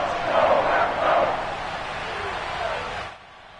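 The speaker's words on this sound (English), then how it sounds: "The crowd getting into it as we come up on a big third down." Stadium crowd at a Packers–Dolphins football game roars loudly in two swelling waves before a big third down, then settles into a steady rumble and drops away sharply near the end.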